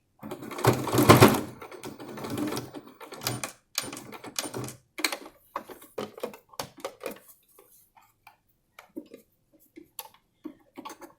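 A sewing machine stitches around a fabric face mask in short bursts of rapid mechanical ticking, first a longer run and then sparse separated clicks, nearby with no talking.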